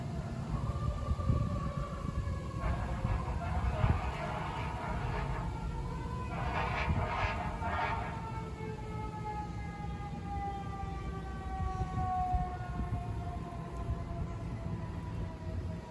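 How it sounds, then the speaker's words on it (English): A fire truck siren passes outside a garden, its wailing tones rising and falling over steady background noise, moderately loud at first and slowly drifting away into the distance. "Oh, that is a fire truck,"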